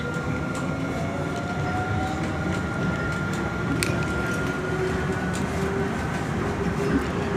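Steady rumble of an airport SkyTrain people-mover in motion, with rolling rail noise, faint clacks and a whining drive tone, heard from inside the carriage throughout.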